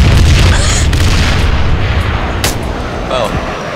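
Gunfire from a pickup truck in Arma 3, heavy booming shots and blasts rolling together loud and close, with a few sharper cracks over a dense rumble and voices talking through it.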